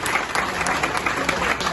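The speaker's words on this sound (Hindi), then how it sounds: "जोरदार तालियों से इस बच्चे का स्वागत है।" Brief, loud burst of audience clapping as a new office-bearer of a retail pharmacists' trade association is welcomed, dense and close, filling under two seconds without any talk.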